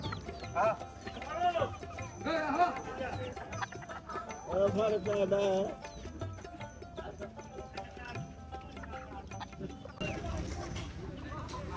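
Rooster clucks and squawks rise through a busy village market in Bangladesh, with people talking and haggling nearby, loudest in a few bursts early on.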